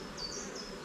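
Honeybees buzzing at an opened production hive, a close, steady drone with shifting pitch as bees pass, brief and continuous with no talking.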